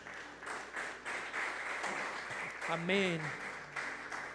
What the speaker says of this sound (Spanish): Regálele un aplauso en esta mañana al Señor